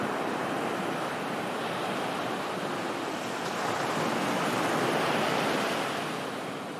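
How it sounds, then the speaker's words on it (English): Wind and surf on a stormy beach in Himare on a rainy day, a steady loud roar of breaking waves and gusts that never lets up. "It was still windy and raining"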